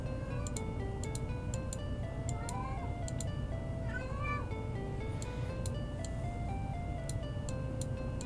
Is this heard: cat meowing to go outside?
yes